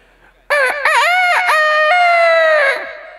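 A voice imitates a rooster crowing on a comedy stage show, one loud, drawn-out cock-a-doodle-doo with wavering pitch, close and alone.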